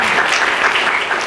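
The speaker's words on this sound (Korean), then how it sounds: "박수 한번 치세요." Applause from an audience at a Korean youth forum with a lawmaker as guest, a dense steady wash of many hands clapping at once, fairly loud and continuous without talk over it.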